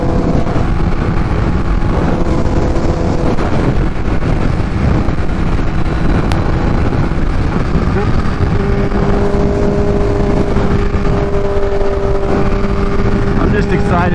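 Kawasaki Ninja H2 motorcycle with a Vandemon exhaust on a highway ride, a loud continuous engine drone with shifting pitch and heavy wind rush filling the whole stretch.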